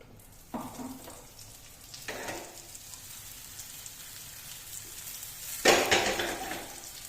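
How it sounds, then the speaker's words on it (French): Food frying in oil in a home kitchen, with three loud sizzling bursts as ingredients hit the pan, the last the loudest, and a quieter crackle between them. "On va essayer de faire un peu frire."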